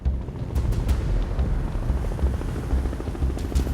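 A helicopter's rotor thumps loud and steady overhead, chopping continuously with some wind buffeting on the microphone, and no voices, during a search and rescue operation.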